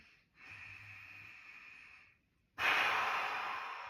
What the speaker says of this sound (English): And try to do 4 breaths like this with your abs sucked in.